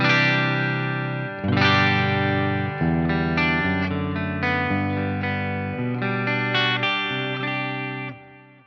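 Distorted electric guitar playing a chord progression through a delay effect at default settings, each strum trailing into repeated delayed echoes that blur together, steady and fairly loud with no voices.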